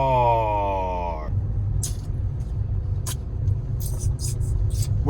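A car with newly installed wheels on 40-profile sidewall tires drives along, its steady low road rumble continuing throughout after a brief higher whine at the start, with faint hissing sounds above.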